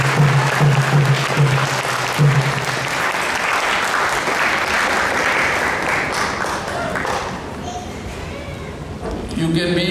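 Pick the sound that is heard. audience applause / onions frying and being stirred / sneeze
audience applause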